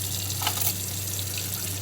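Cold water runs steadily from a tap into a measuring cup, a continuous close splashing rush with an even hiss and no break, heard alone without any talk.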